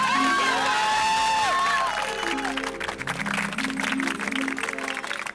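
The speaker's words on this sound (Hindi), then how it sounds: "अरे श्री अमिताभ बच्चन तालियां।" A crowd in a residential society courtyard cheers and claps for Amitabh Bachchan's arrival, the applause and whoops swelling over a musical background score, steady and moderately loud.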